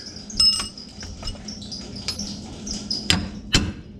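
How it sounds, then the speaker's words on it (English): A hammer strikes a metal 589 Fab shock skid plate on a 2019 Chevrolet Colorado ZR2 Bison several times, sharp ringing clanks spaced irregularly, the last two hits the loudest, over faint background noise. "Got to hit right here and knock it up with a hammer"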